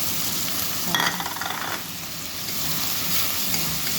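Chicken pieces and hotdog sizzle in a frying pan while sopas is being cooked, a steady crackling fry with a brief stirring scrape near the start, moderately loud and close, no talking.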